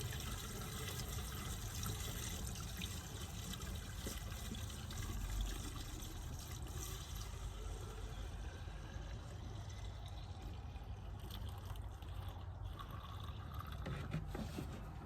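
Washer fluid pours steadily into a car's windshield washer reservoir, a soft continuous trickle and gurgle that stays faint and close throughout.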